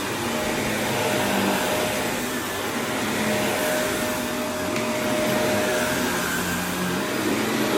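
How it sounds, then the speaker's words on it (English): Vortex Lite vacuum cleaner running over area rugs, a loud, steady whooshing roar that holds throughout with no voices. "So let me just vacuum these rugs, vacuum the sofa, and get down to business."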